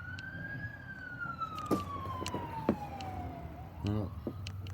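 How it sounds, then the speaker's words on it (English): An ambulance siren passing outside, a long wail sliding slowly down in pitch over low traffic rumble, with someone talking briefly under it and a few clicks nearby. "Ambulance!"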